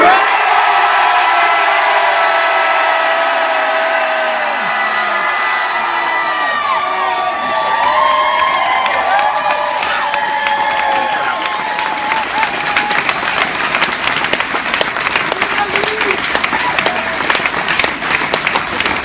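Crowd at a singer's public memorial at KEXP yells his name in long, wailing sustained shouts, then breaks into loud applause, cheering and whoops that fill the rest of the space.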